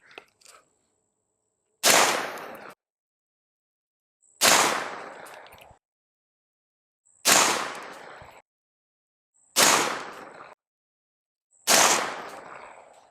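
Five unsuppressed gunshots fired one at a time as a baseline test without a silencer, each a sharp loud crack with a brief decaying tail, spaced about two to three seconds apart, close and alone.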